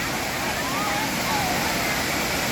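Continuous rushing roar of Khlet Sao Noi waterfall in Thailand, a broad steady wash, with a faint voice briefly audible beneath it.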